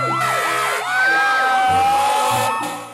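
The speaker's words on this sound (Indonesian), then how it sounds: "Wow, ada mobil pemadam kebakaran, teman-teman." A toy fire truck plays its electronic siren, a loud, close, wailing tone that rises and falls repeatedly, with brief shifts in pitch and a short dip in volume partway through.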